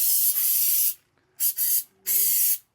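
Throttle body and carby cleaner sprayed from an aerosol can onto an RD500 carburettor during a rebuild: three sharp hissing bursts, the first long, then a short double spurt and a final burst, close and loud with no talking.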